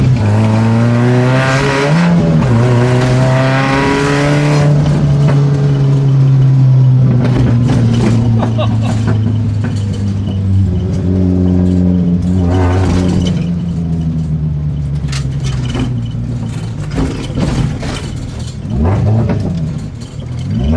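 Peugeot 405 Mi16 4x4 supercharged rally car engine revving loudly and close, its pitch climbing and dipping through repeated throttle blips, with no speech over it.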